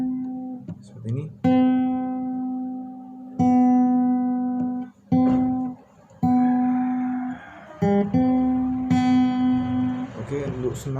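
Acoustic guitar strings are plucked one at a time, a fretted third string alternating with the open second, each note ringing clear and sustained, with short gaps between them.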